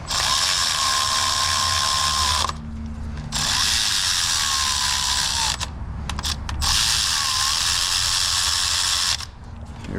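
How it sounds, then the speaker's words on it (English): A 10mm ratchet wrench zips bolts down during a spark plug job on a 2016 Toyota Corolla 1.8L, with several bursts of rapid clicking separated by short pauses, close up. "Always get them started before zipping them. A 10mm wrench here."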